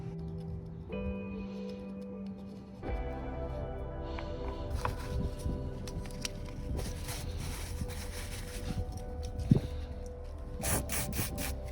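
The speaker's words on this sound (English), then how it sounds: "I kind of managed to take a lot of that corrosion off just of these points here" Corrosion is scrubbed off the contacts of an Alfa Romeo Giulietta electric window switch, making close, repeated scratchy rubbing strokes over a faint low hum, with one brief tap near the end.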